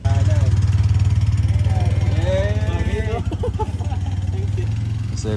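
A motorcycle idles nearby at a Christmas campout, its steady low pulsing putter running throughout while people talk over it.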